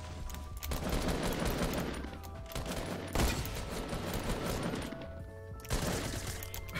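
Fortnite gunfire rattles in dense bursts with several sharper shot accents, steady and fairly loud throughout, with in-game action noise layered underneath.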